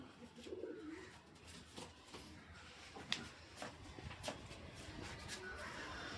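Racing pigeons coo softly inside a loft in Bangalore, with repeated low throaty calls and faint shuffling of birds, quiet and close, with a hint of voices in the background.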